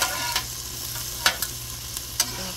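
Shrimp and mixed vegetables cook on a flat-top Blackstone griddle: a low steady sizzle under a few sharp scraping taps of a spatula, each brief and spaced apart, with no voices.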